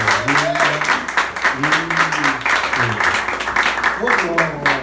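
Church congregation clapping in a steady rhythm during a Portuguese-language worship service while a voice speaks and sings loudly over the hands.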